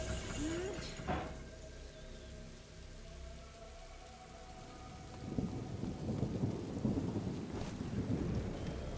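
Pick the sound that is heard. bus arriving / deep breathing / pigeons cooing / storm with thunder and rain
storm with thunder and rain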